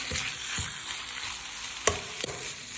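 Pork stir-fries in pounded chili curry paste for northern Thai nam phrik ong, a loud continuous sizzle close up with a couple of sharp spatula scrapes against the pan.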